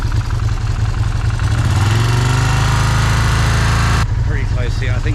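A Moto Guzzi motorcycle engine idles around 3000 rpm during a 190,000 km service, a loud, steady, close throbbing drone whose tone shifts and thins near the end.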